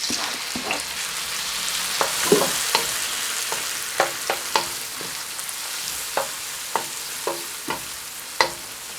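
Tomatoes and crushed red chili flakes cook in a pan with a continuous hiss of frying, punctuated by intermittent spoon clicks and scrapes as they are stirred, close up and without voices.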